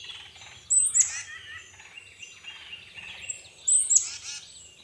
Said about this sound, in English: It's like really deep gobbles, real smooth sounding gobbles.